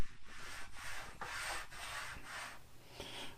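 A Rockler T-track piece slides back and forth in a wooden board on a miter saw station, giving soft rhythmic rubbing strokes, about six passes, close and quiet.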